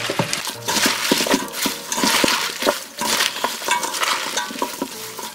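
Young radish and napa cabbage kimchi is tossed gently by hand with chili seasoning, making continuous wet squelching, rustling and soft slapping at close range with no talk.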